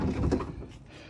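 A door on a Nissan Civilian camper van is pushed shut, giving a dull, close thud with a brief rattle, followed by quieter settling noise.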